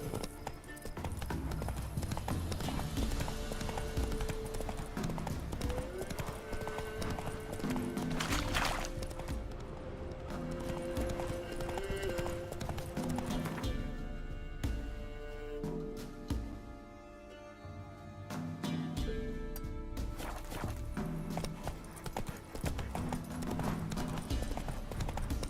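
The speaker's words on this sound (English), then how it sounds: "Whoa there, Roach." Horse hooves clip-clop in a steady, continuous rhythm in the video game The Witcher 3, loud and close over game music and ambience, with a neigh possible.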